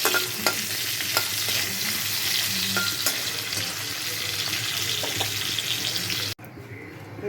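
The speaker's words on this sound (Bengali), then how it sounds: "এখন আলুটা ভেজে তুলে নিব" Potato pieces fry in hot oil in a home kitchen, lightly salted after aubergine, giving a steady close sizzle with occasional stirring clinks, then a sudden drop near the end.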